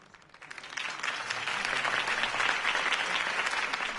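Applause from a crowd in the video game Batman: The Telltale Series swells quickly and holds steady as a dense, sustained wash of clapping.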